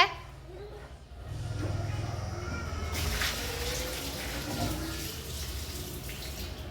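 Water runs from a tap into a pot, starting as a low drumming fill that turns into a brighter, steady splashing stream partway through, close by, with faint background sounds.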